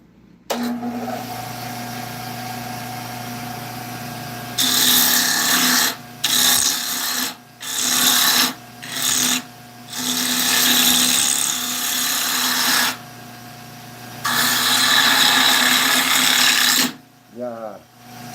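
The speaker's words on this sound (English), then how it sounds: "So I'm going to go to the bowl gouge to do the stem" A bowl gouge cuts a wooden stem on a lathe in several loud, rough bursts that start and stop. The motor hums steadily in the quiet gaps between cuts.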